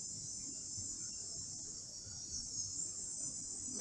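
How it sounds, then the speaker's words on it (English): Dense, continuous high-pitched buzzing of cicadas outdoors, a steady shrill drone filling the background with a soft low rumble beneath and no voices. "There's a lot of cicada going on right now, so maybe you can hear the sounds of nature"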